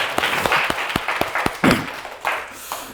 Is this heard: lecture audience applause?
yes